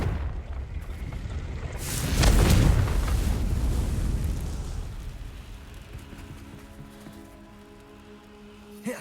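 A Confringo blasting spell from the Hogwarts Legacy video game erupts in one loud, broad explosion that swells and rumbles, then slowly fades into a lingering low roar and ambient wash.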